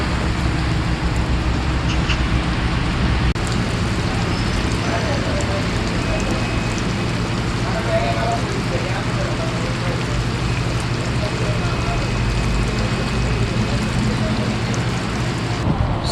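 Rain falls steadily outside a shelter at night, a constant dense patter and hiss with no pauses, heard from under cover.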